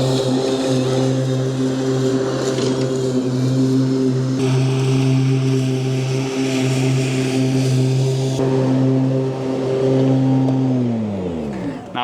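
Zero-turn mower with traction control driving across a bank, its engine a steady loud drone throughout that slows and winds down at the end.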